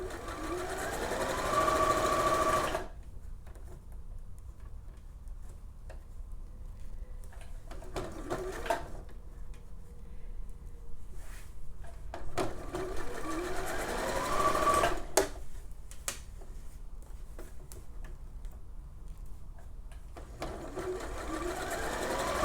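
A sewing machine stitches lightweight fabric at a regular stitch length of about 2.5, running in loud steady whirring bursts at the start and end, with a quieter stretch between them.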